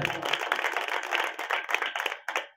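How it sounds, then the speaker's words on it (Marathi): An audience claps together at a devotional talk, a dense, steady patter of many hands lasting a few seconds, close and fairly loud. "एकदा माईक घेतला सिस्टीम यांच्यासाठी एकदा टाळी वाजवू"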